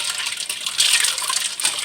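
Ice cubes tipped into a batch of brewed tea for kombucha, giving a short, bright rushing clatter that swells midway and tails off, close and alone.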